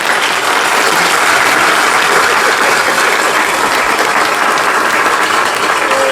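Dense applause from a crowd fills the room, steady and loud throughout with no break, a broad wash of many hands clapping together.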